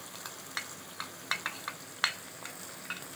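Chili and crushed dried coriander seed frying in a pan with spices, giving a faint steady sizzle broken by several sharp spoon-against-pan clinks and scrapes as they are stirred, no voices.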